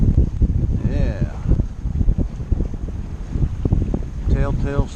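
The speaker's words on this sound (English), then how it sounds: "Got a little gust." A wind gust buffets a sailboat out on a lake, a rough blustery rush against the microphone under people talking aboard, steady and close throughout.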